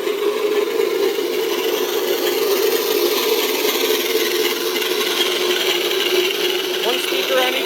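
Twin-engine sound module in an RC P-38 model plane, playing a low idle through a speaker on each side: a steady, even rumble that holds at the same level throughout, with no break or change in pitch.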